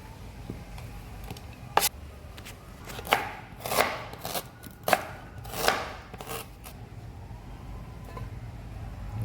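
Ginger being chopped with a knife for a Kokani mutton curry masala paste, about a dozen distinct chops in small irregular bursts, close and clear over a quiet background.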